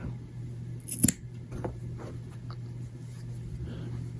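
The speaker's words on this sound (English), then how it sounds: "Make sure you're not cutting the wrong yarn. Just gonna cut this thing off." Scissors cutting yarn while crocheting a pillow cover, a single sharp close snip against a low steady background hum, with faint handling noises after.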